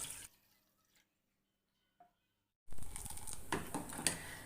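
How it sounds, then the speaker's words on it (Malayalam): Thin second-extract coconut milk poured into semiya payasam: a near-silent stretch with a faint drip, then a sudden steady pour with splashy liquid noise filling the final seconds. "ഞാൻ അതിൻ്റെ രണ്ടാം പാലാണ് ഒഴിച്ചു കൊടുക്കുന്നത്"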